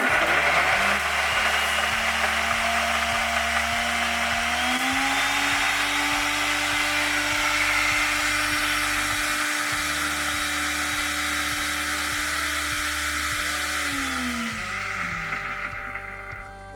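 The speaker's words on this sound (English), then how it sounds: "So next now we'll blend our chili, our mixer. We'll blend it everything together." Electric blender blending chili and other ingredients for peri peri sauce, a loud continuous whir that holds steady and then changes pitch before winding down, close up with no talking.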